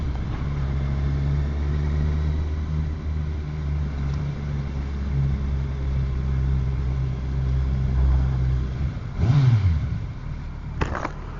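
Motorcycle engine idling and shifting gears, with a false neutral when dropping toward first; a steady low rumble throughout, a brief rev or clunk near nine seconds, and a sharp click toward the end.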